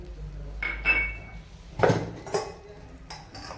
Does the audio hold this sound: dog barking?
no